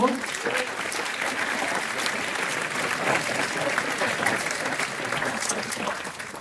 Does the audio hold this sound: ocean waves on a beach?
no